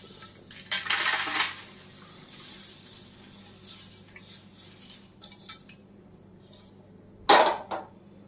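Crispy thin poha chivda is poured from one pot into another cooled pot in short rattling bursts, with clinks of metal against metal and quieter stretches between.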